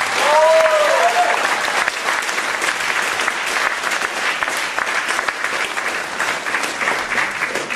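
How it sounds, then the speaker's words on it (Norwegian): A revue audience in Lardal breaks into loud, sustained applause for the show's sponsors, dense clapping from a full crowd that holds steady for several seconds. "Så gi sponsorene våre en kjempestor applaus."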